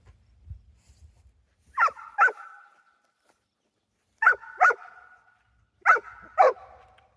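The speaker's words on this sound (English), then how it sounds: "We got a dog that wants to play." A dog barks in three pairs of sharp, nearly matching barks spaced a few seconds apart, each pair ringing briefly, against a quiet garden with faint low rumble before the first pair.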